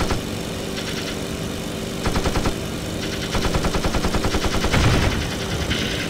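Rapid machine-gun bursts from a WWI biplane's guns fired at an enemy aircraft in the Warbirds WW1 flight simulator, rattling loudly over a steady droning engine hum, with several bursts growing denser toward the end.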